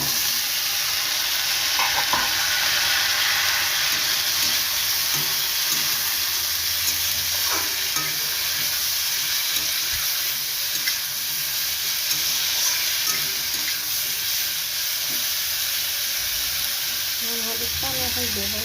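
Onions sizzle steadily in hot oil in a pan for a Bengali chorchori, a loud, continuous close hiss with occasional stirring scrapes and clinks, no talk over it.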